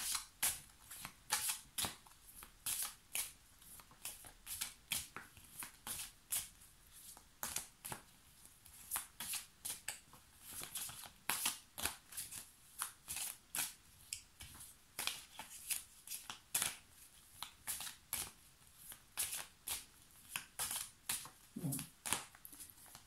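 Tarot or oracle cards are shuffled by hand in a long run of crisp riffling bursts, regular and close, with only the faintest trace of voice.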